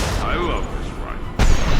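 Rifle fire in Mass Effect 2, a heavy loud blast near the end after a stretch of dense combat noise with a voice speaking over it.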